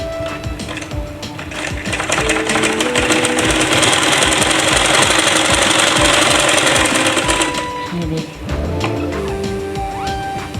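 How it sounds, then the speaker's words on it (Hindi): A sewing machine stitching along the edge of a salwar, a fast, loud mechanical rattle that runs steadily for several seconds, then stops, leaving brief handling noises. "बिल्कुल किनारे पर सिलाई लगाएंगे यहाँ से यहाँ तक।"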